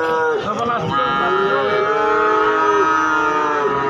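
Several cattle moo in long, drawn-out overlapping calls at the Gorang Gareng livestock market in Magetan, a busy morning crowd murmuring and talking beneath them.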